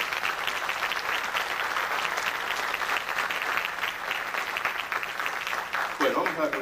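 Sustained applause from a conference audience at an international ufology congress, dense and steady throughout, with a brief change in texture near the end.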